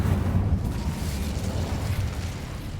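A burst of fiery spell magic, Incendio, cast in the video game Hogwarts Legacy, roaring as a sustained low rumble at steady loudness for a few seconds, with no talk over it.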